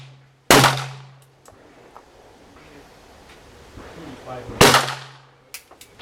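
A hand gun is cocked and fired twice, each shot a loud sharp crack about four seconds apart with a short ringing tail, quieter clicks and handling noises between and after the shots.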